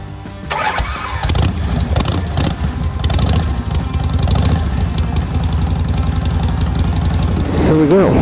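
A Harley-Davidson chopper motorcycle cranks and fires up, then settles into a loud, close, lumpy idle with a deep throbbing rumble and a revving blip at the end, with speech briefly audible.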